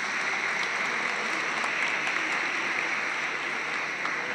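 An audience applauds at a talk with a film director, a dense, continuous wash of clapping that holds at an even level from start to finish.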